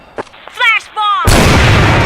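In a shooter video game, a voice shouts a callout, then a flashbang grenade goes off with a sudden loud broadband blast that rings on to the end.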